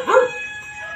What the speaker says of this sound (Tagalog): Ayan yung aso.